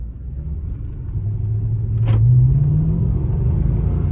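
Steady low engine rumble from a 2011 Mercedes-Benz E63 AMG sedan on the move, swelling slightly louder partway through, with road noise underneath and no voices.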